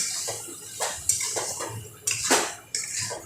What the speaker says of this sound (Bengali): এবার ভালো করে সব মশলার সাথে চানাগুলোকে মিক্স করে নেব